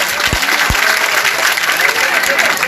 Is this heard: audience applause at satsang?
yes